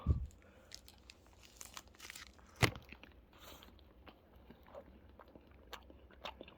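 A crunchy monaka wafer being bitten and chewed, with one sharp crisp crunch standing out midway among softer crinkly chewing noises, close and fairly quiet.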